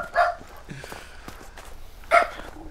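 In The Hunter: Call of the Wild, hunting dogs let out two separate barks about two seconds apart, mid-distance and moderately loud, with faint rustling and footstep-like sounds between them.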